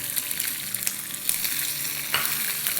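Green chilies, slit lengthwise with their seeds left in, crackle and sizzle in hot oil in a pan, steady frying noise punctuated by sharp scraping stirs of a spoon, close and fairly loud with no talk.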